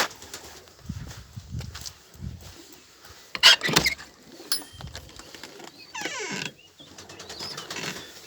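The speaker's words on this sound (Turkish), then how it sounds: "Esas kümesteki kuşlarımızı salalım arkadaşlar." Birds let out of a coop stir nearby, with scattered bursts of wing flapping, soft coos and calls, and intermittent rustling against a quiet outdoor background with a faint passing car.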